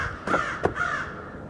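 Crows give two harsh caws close by in quick succession, loud and alone, with the second call sharper than the first.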